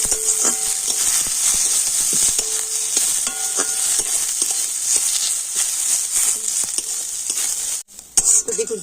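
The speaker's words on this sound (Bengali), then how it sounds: "পেঁয়াজটা কিন্তু একটু লাল করে ভেজে নিয়েছি" Onions fry and are stirred in a pan with a constant close sizzle broken by repeated scraping strokes of a spoon, and the sound briefly cuts out near the end.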